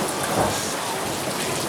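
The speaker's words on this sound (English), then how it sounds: "hear if we hear the thunder from it." Steady rain hisses close by with a low distant rumble of thunder underneath, continuous and fairly even, no talking.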